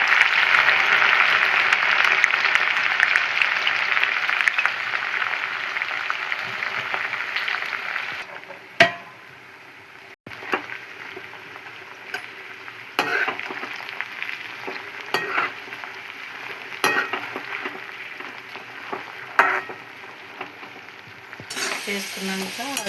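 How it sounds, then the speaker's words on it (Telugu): Okra frying in hot oil in a pan, starting with a loud dense sizzle that settles into quieter crackling broken by repeated scraping and clanking stirs, close-up with no talk. "ఇప్పుడు ఇంకా మిగతా సగం బెండకాయలు అయితే వేస్తున్నాము."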